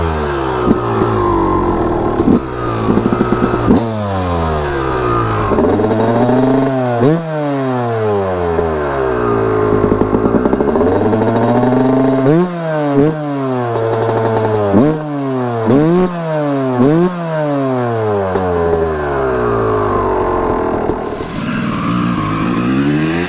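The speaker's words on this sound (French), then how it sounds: "quel plaisir de retrouver ce 250 YZ. L'odeur, le bruit, les vibrations, cette sensation" A Yamaha 250 YZ two-stroke supermoto engine revs hard through repeated gear changes while riding, each rise in pitch followed by a drop. The loud, close whine runs steadily with no talking.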